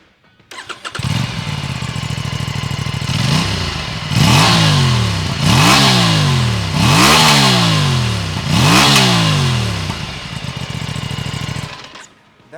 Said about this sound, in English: That 270-degree rotating crank makes for a really interesting exhaust note